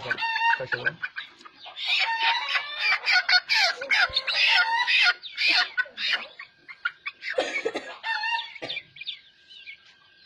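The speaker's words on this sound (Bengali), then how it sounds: "এটা কিন্তু পিওর দেশি মুরগি" Desi chickens cluck and squawk close by in a rapid, overlapping chorus of sharp calls, with a brief crow-like cry among them, busy and continuous throughout.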